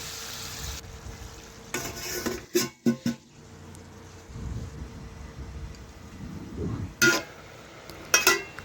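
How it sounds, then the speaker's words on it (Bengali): A spatula stirs papad curry in a pan with scraping strokes and bursts of sizzle. A few sharp knocks and louder clatters rise over a low frying hiss. "এখন খুরপিটা দিয়ে আবার একটু নাড়াচাড়া করে দেখুন এক জায়গায় সমস্ত কিছু জড়ো করে নিচ্ছি।"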